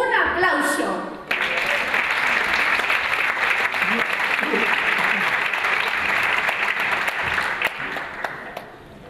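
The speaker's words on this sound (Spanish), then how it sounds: "¡Un aplauso!" An audience at a charity arts and poetry festival breaks into sustained applause after a brief spoken introduction, dense clapping holding steady for several seconds before tapering off.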